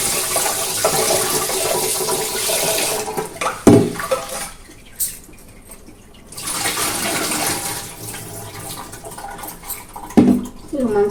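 Foxtail millet, ragi and urad dal being rinsed by hand in a vessel of water, with sloshing, splashing and grains knocking against the pot in bursts, then a short quieter pause before the washing picks up again.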